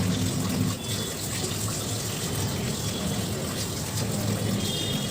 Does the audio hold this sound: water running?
yes